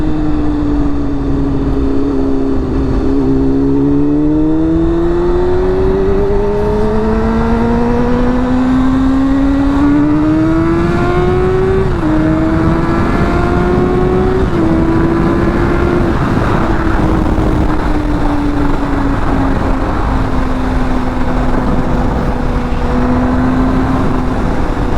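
A Honda CBR sport motorcycle accelerates hard on a cold ride, its engine note climbing steeply through several gear changes. The loud, continuous roar rises and dips steadily for about 25 seconds, with no talking over it.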